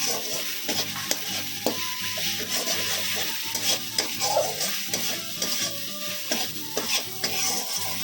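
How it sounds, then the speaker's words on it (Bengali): Spice masala with chili, salt and turmeric fries in a pan, its soft continuous sizzle broken by frequent scraping stirs, close and fairly quiet. "দেখুন মশলাটা কষানো হয়ে গেছে"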